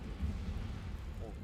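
In the Hogwarts Legacy video game, an Incendio fire spell gives off a brief, low rumbling whoosh, a dense muffled roar lasting about a second and a half.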